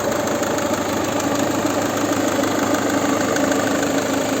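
A Peugeot 5008 with a 2.0 HDi diesel engine, a 2011 seven-seater, idles steadily with a dense, even mechanical clatter and hum that stays at a constant level throughout, close to the engine and with no talking.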